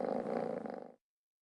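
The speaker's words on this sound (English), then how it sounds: "Have you ever heard a cat purring?" Cat purring, a steady low rumbling purr heard up close for about a second before cutting off abruptly, with no voices.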